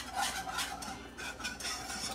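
A whisk scrapes and stirs a butter and flour roux around a sauce pot, giving steady, fairly quiet rhythmic metallic scraping strokes with no talking.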